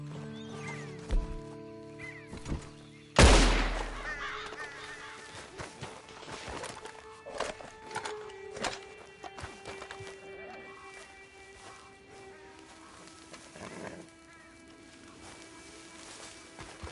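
A horse ridden in Red Dead Redemption Online gives a sharp loud snort or neigh early, then hoofbeats clop irregularly amid game ambience and occasional knocks, fading to quieter steps.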